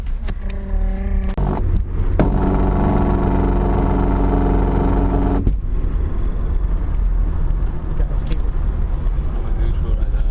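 A 1993 BMW E36 325is with a broken differential bolt drones steadily with engine hum and a grinding, rubbing noise, loud and close, with brief voices near the start.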